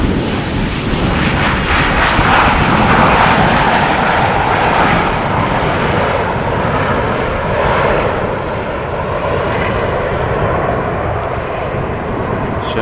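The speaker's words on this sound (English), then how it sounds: "So the Boeing 737-800 from KLM coming in from Vienna." KLM Boeing 737-800 from Vienna landing at Amsterdam Schiphol on runway 18R in windy weather: a loud, continuous jet engine roar that swells and eases slightly while the aircraft passes, with no talk.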